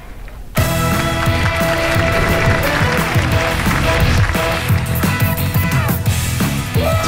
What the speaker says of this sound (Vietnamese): Rồi vỗ tay cho cháu nhỏ để quý vị.